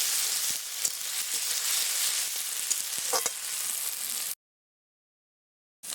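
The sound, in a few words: garlic frying in oil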